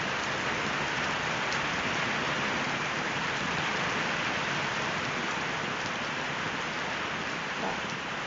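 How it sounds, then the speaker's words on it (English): A recording of steady rain plays as a constant, dense hiss of falling drops, even and unbroken throughout, fairly loud with no talking. "I'm just going to turn up some rain sounds"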